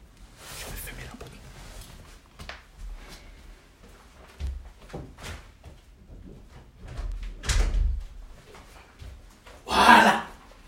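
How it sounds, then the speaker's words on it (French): A door shutting indoors, a few soft bumps and shuffles, then a firm close near the end, with quiet whispered talk in between. "Je vais fermer la porte."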